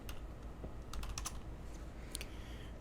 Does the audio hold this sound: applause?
no